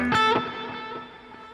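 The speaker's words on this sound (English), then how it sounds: "We need it to repeat more. And a little more space." An electric guitar phrase with two sharp plucks through an EL34-style amp tone in the Overloud TH-U amp simulator, followed by stereo delay repeats that echo, trail off and decay over the next second, with no voices.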